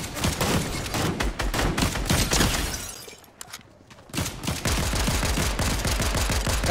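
Video game gunfire crackles in dense rapid volleys, several weapons overlapping, easing off briefly mid-clip and then returning steady and loud, with no talking.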